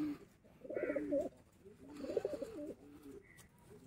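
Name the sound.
breeder pigeons cooing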